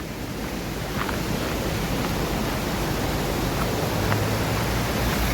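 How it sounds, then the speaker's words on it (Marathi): A steady, rushing wash of water from a flowing stream in a forest near Malvan, Sindhudurg, fills the scene, loud and continuous without any pause. "वाहत्या झऱ्याचा आवाज बघा तीव्र होतो"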